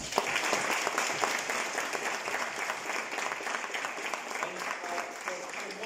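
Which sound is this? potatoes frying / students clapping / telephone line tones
students clapping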